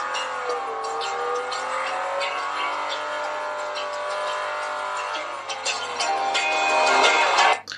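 Beach Buggy Racing played on a Kospet Prime Android smartwatch, its small speaker giving a steady buzzy engine whine that shifts pitch with acceleration, with tire squeals and game effects near the end.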